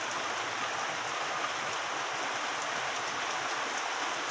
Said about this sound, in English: Rain's really starting to pick up.